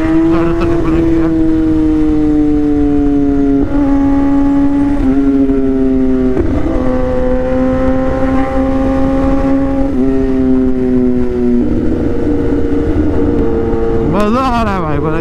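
A superbike runs fast on an open road near Greater Noida, its engine droning steadily with pitch shifts as gears change, loud and close throughout with heavy wind rush; a rider talks over it.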